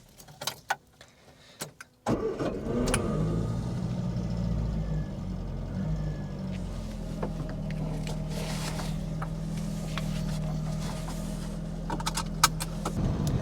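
A 1.1-litre Ford Fiesta Mk1 engine cranks over and catches, then settles into a steady, rough idle. Before it fires there are a few faint clicks and rattles, and nobody speaks.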